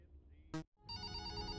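A telephone rings: a short burst of bell-like ringing, a brief silence, then a longer sustained electronic ring, fairly quiet and without talk over it.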